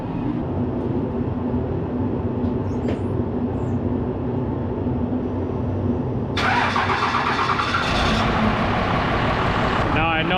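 A 1995 Ram truck engine turns over and fires up, settling into a loud, rough, steady rumble that grows harsher and louder toward the end. The sound is close, with faint background sounds under it.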